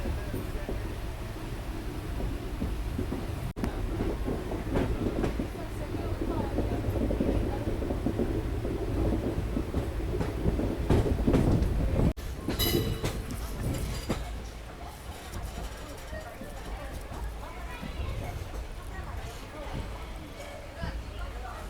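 SMVT Bengaluru–Murdeshwar Express train running, a steady loud rumble and rattle of wagons throughout, with a brief sharper burst midway, heard from on board under a voice.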